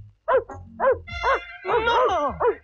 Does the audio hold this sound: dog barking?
yes